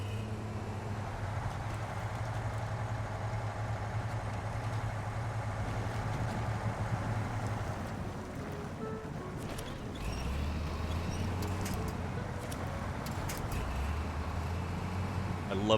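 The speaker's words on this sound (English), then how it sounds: "I love the sound of this engine." A truck engine idles in SnowRunner with a low, steady droning hum that holds even, then shifts to a deeper tone partway through, carrying on continuously at moderate level.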